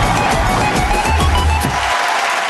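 Loud applause from a studio audience on a Kannada TV game show, steady dense clapping filling the first couple of seconds, then dropping away near the end.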